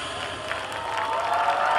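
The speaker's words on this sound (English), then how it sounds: "we now ask that you begin clapping as we pull into the station." Audience applause and cheering rise steadily as the Hickory Ridge High School Blue Regiment marching band arrives at Mooresville High School, a dense crowd sound that grows louder over a couple of seconds.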